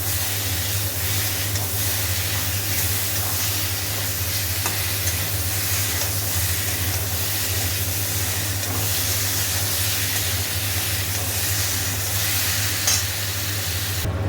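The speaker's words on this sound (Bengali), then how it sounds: "আর এটা ভালো করে আর একটু ভাজি নিয়ে জল দিয়ে মশলা দেবো" Masala with tomato and ginger paste frying in a pan as it is stirred, a steady close sizzle and hiss with scraping stir sounds running continuously, no talk.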